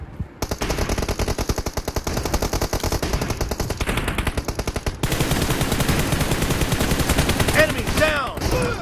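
Gunfire in the video game PUBG: a long run of rapid automatic bursts, loud and dense, with a short gap and then heavier sustained firing, alone without talk.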